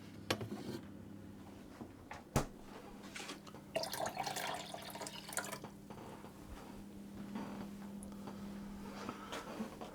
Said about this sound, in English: I'm going to pour into that my ice cold water